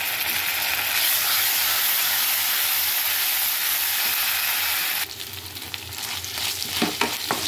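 Spices and ginger-garlic paste frying in hot oil in a pan, a loud steady sizzle that drops slightly partway through, followed by scattered stirring clicks and scrapes, with no voices.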